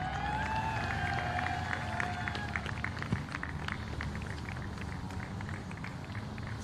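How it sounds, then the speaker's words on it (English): An audience at a school cricket city championship applauds the team's head coach, a continuous patter of clapping that holds steady throughout, with faint voices underneath. "So a round of applause again for your finalists and defending champions at Richmond Hill"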